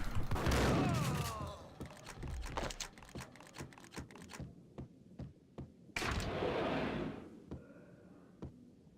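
Gunfire in the video game Max Payne, bursts of rapid shots early on and again later, with scattered single thuds between them and quieter gaps, moderately loud with no talking.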